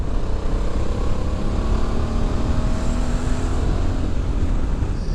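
A Honda Africa Twin Adventure Sports DCT motorcycle from 2020 holds a low gear, its engine droning loud and steady with a constant rumbling roar and rushing wind noise throughout.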